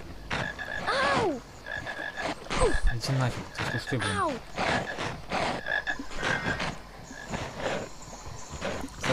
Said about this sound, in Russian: Так, еще лягушка, отлично.